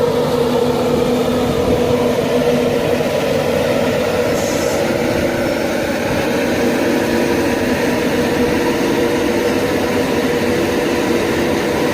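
A class 91 electric locomotive, number 91117, passes through Peterborough station on the East Coast Main Line, a loud, continuous roar of wheels and rumbling carriages that holds steady from start to end.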